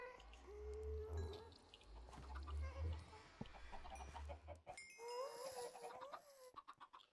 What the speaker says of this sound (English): Chicken, chicken, chicken.